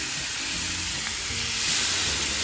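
Sous vide filet mignon searing in a pan gives a steady, close hiss of sizzling fat that holds evenly and swells slightly toward the end, with no talking.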